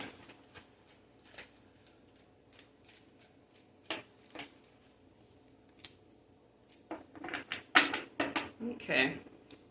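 Tarot card decks are shuffled by hand in a quiet room: soft, scattered card flicks at first, then a denser run of louder riffles and snaps near the end.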